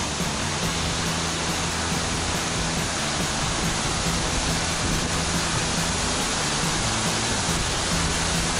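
A dense, unbroken roar of a waterfall, loud and steady throughout with no other sounds standing out.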